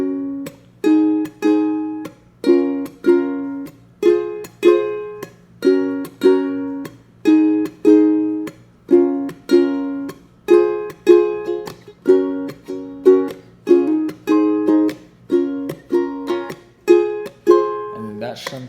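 A ukulele plays steady down strums, one even chord stroke after another at a moderate, regular pace, close and clear with no talking.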